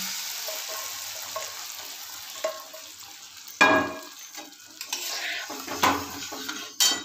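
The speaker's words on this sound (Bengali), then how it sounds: "মশলাটা কষানো হয়ে গেছে, এবার আমি সেদ্ধ করে রাখা মুগের ডালটা এর মধ্যে দিয়ে দিলাম।" Boiled mung dal hits a fried spice paste in a pan, giving a soft sizzle with sharp metallic clinks and scrapes of a spoon on the pot at irregular moments, close by and without speech.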